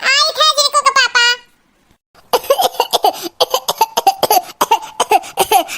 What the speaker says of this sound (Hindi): खांसी आवत है